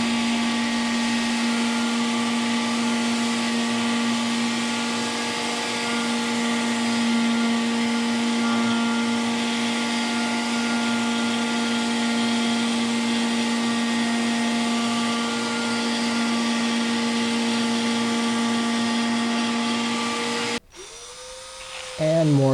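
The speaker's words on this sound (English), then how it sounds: "And now the sanding begins." A power sander works steadily on ash live-edge wood for a gift tray, giving a continuous high whine at even loudness before a brief change near the end.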